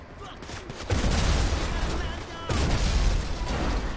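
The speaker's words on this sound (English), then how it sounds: "Break out the pump, the explosive shotgun." An explosive pump shotgun in GTA Online fires two heavy, booming blasts about one and a half seconds apart, each followed by a long rumbling tail.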